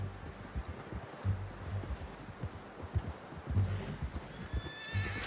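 A horse whinnies loudly near the end in the video game Red Dead Redemption 2, with hoof clops and soft rustling underneath throughout; no talking.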